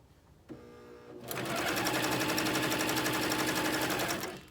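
Janome coverstitch machine stitching a hem: a brief faint hum first, then a fast, steady, loud mechanical needle chatter that runs evenly for several seconds before stopping.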